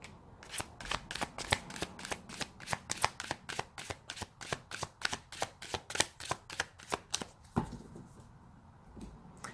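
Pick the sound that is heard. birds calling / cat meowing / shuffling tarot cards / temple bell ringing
shuffling tarot cards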